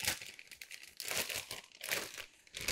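A plastic piping bag being folded over by hand before filling for churros: close, dry crinkling and crumpling in several bursts, no talk.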